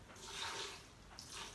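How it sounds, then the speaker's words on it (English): Water poured into a blender for an almond dressing, a soft splashing trickle that swells and fades, faint and close, with no voices. "Small amount of water to begin."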